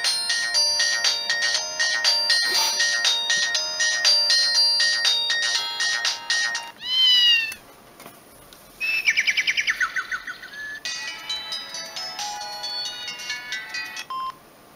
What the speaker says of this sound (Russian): Именно вот этот рингтон у моего деда на звонке,